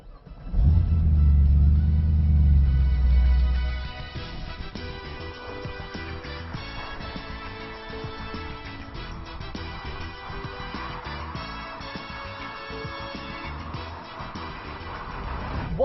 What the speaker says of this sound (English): under the bonnet meanwhile is not some wheezing old Chrysler engine but a modern American V8, complete with supercharger